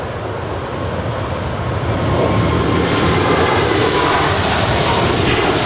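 Heavy cargo jet departing LAX, a loud, broad engine roar that swells and holds steady throughout, with no talk.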